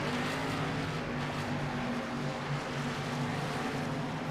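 Stock cars rolling down the backstretch at Indianapolis Motor Speedway during the Thunderclap Brickyard 250, a steady, continuous engine roar with a dense, even drone and no talking.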